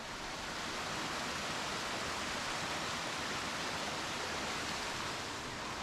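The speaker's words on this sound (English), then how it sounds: "But check out this waterfall." Roaring Springs waterfall on the North Kaibab Trail at the Grand Canyon North Rim gives a constant broad rushing roar, loud and close, steady throughout with no voices.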